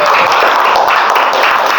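Classroom applause from a group of schoolchildren, a loud, dense and continuous burst of clapping heard close up, unbroken for its short length.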